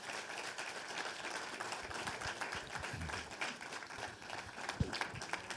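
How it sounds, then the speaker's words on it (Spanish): A church congregation applauds the Lord with steady, dense clapping from many hands, with a few louder thumps scattered through. "Dele un aplauso al Señor,"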